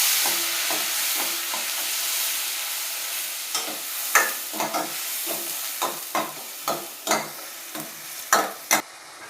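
Crushed onion frying in oil with spices, curry leaves and asafoetida while being stirred: a steady soft sizzle, joined after a few seconds by a series of sharp, regular scraping strokes of a spoon against the pan.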